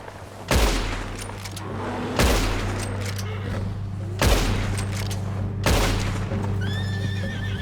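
Gunfire in the Western video game Red Dead Redemption 2, four loud sharp shots spaced about two seconds apart, mixed with a horse whinnying and a low engine-like drone.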